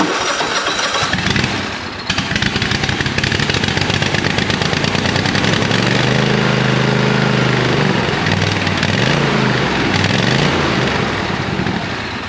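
A scrap yard garden tractor engine, fitted with a new battery and set to full throttle, cranks and fires up, then runs loud and close with a rapid, throbbing rattle throughout.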